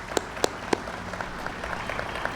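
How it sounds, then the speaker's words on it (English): A few loud claps ring out at the start, followed by a thin scattering of distant applause that continues faintly. "let's give them a round of applause."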